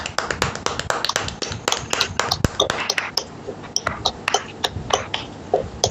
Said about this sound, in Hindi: अपनी डिजिटल और फिजिकल तालियों के साथ सर का वेलकम करेंगे